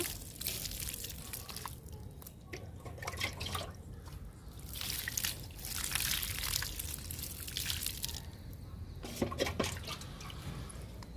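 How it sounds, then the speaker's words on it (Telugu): Water poured from a bowl onto potted vinca and periwinkle plants makes a continuous trickling and splashing, with dripping that rises and falls and a few louder spatters near the end. "వింకాకి చుక్కమల్లికి వాటర్ ఇచ్చేద్దాము"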